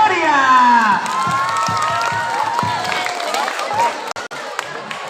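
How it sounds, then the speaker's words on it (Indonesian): A school crowd at a high school extracurricular exhibition in Palembang cheers and shouts over scattered clapping; high excited voices swell loudly at first, then settle into a busier, quieter murmur of claps and calls. "Beri tepuk tangan yang meriah."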